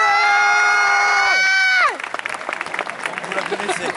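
After a held, falling musical tone cuts off, a crowd at a 2018 cosplay performance in Tarbes breaks into applause and cheering, a moderately loud, busy patter of clapping and voices that continues to the end.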